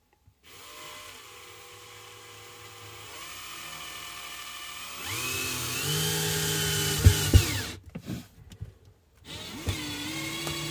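An impact driver drives screws into wooden battens fixed to a wall: several whirring runs rising in pitch, then sharp hammering impact bursts and brief stops, close and fairly quiet.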